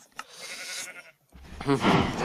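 Minecraft sheep bleat in short, close, fairly loud cries, with a brief pause between calls.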